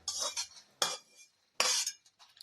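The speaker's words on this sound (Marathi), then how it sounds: "आता आपण परातीत खोबरं काढून घेऊया" A metal utensil scraping and clinking against a plate while roasted grated coconut is moved into a wide plate for modak, three distinct bright scrapes close by, with no talking.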